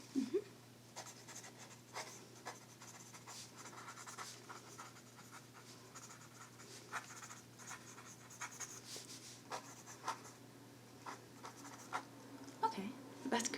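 A pen writing on paper, close and quiet scratching strokes in short bursts with small taps, over a faint steady hum, with soft talk at times.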